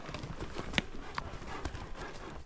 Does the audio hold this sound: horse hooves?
yes